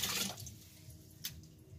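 Tap water runs over long green chili peppers being washed in a kitchen sink: a brief, close splashing rush that thins into a softer trickle with one small splash near the end.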